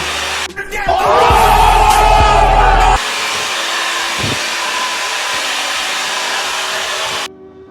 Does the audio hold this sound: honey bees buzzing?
no